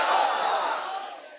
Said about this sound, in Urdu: نعرے کا جواب دیجئے فیضان رضا